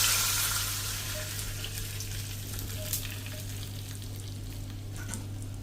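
Hot tempering of spiced oil poured over khandvi, giving a steady close sizzle and crackle that fades slightly after the first moment, with faint clinks; no voices.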